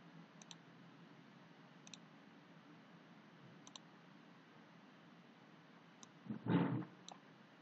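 Several faint, sharp computer mouse clicks spaced a second or more apart over a quiet hiss, with a brief louder thump near the end.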